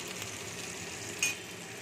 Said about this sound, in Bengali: ভাজা হয়ে এসছে মাছের